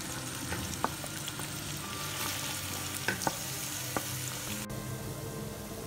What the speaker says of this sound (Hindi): घी को गर्म करके इसके अंदर हम ये प्याज डाल देंगे और इसको लाइट ब्राउन करके बाहर निकाल लेंगे